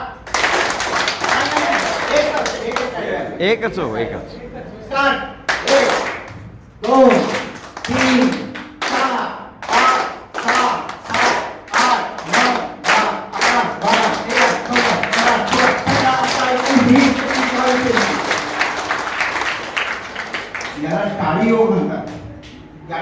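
A group of senior women claps loudly at a Women's Day gathering of a senior citizens' association, bursts of sharp hand claps in quick rhythmic runs, mixed with someone talking and instructing.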